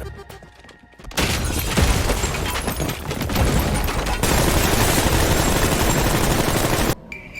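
Gunfire from a scene in the film Animal, fired from a big modern gun: a dense, loud, continuous barrage of shots and booms lasts about six seconds and then cuts off abruptly.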